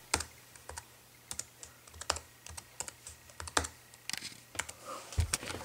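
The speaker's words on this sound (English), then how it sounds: "Type in supermodel right there." Keys clack in irregular bursts on a computer keyboard while a Mac arcade emulator is being set up, the taps close and fairly quiet with short pauses between runs.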